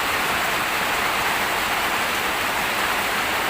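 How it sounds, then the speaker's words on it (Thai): Heavy rain pouring down in a steady, dense, loud hiss that stays unbroken throughout, with no voices. "ฝนตกทุกวันครับอาจารย์ ช่วงนี้"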